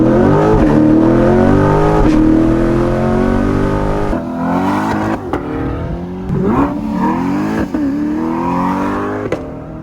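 A Chevrolet C8 Corvette engine revs hard through a straight-pipe exhaust with a loud, raw snarl, rising and falling through several throttle blips up close.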